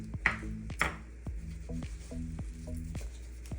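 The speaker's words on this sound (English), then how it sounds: "So now we're gonna chop the cilantro." A knife taps rhythmically against a cutting board in quick, even chops through cilantro, close up, over a faint background hiss.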